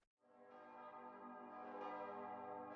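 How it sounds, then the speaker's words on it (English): A large bell rings out after a brief silence, its deep resonant tone sustaining and swelling, heard alone. "Ring the bell!"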